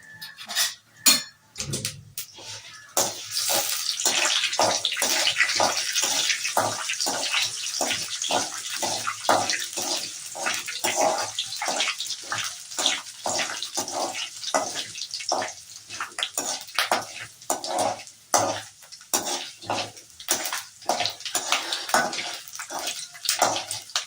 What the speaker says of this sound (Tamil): அடுத்து கடுகு எல்லாம் போட்டாச்சு. இப்போ பொரிஞ்சு வரணும்.